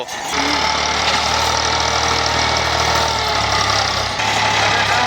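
A tractor engine runs hard at speed, giving a loud, continuous, close rumble with a steady mechanical drone and a slight shift in pitch partway through.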